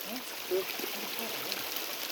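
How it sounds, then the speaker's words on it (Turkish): Spring water at the Dəhnə spring in a village pours steadily in a soft, continuous hiss-like gush, close by, with people talking under and around it. "Bizim kəndin ən məşhur suyudur da bu, Dəhnənin bulağı."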